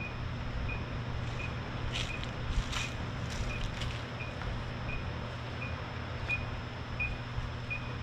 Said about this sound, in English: that sound you're hearing is the sound of the gate getting ready to close.